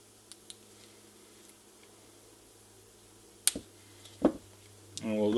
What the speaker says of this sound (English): we'll cut the connections at the bottom of the roll